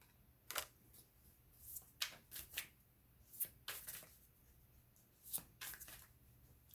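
Tarot cards are shuffled close by in a quiet room, soft papery riffles and slaps coming in short, uneven bursts, with no voices.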